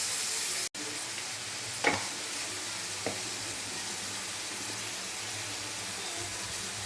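Onions frying with turmeric and salt in a pan, a steady soft sizzle throughout with a couple of faint stirring scrapes, fairly quiet and close.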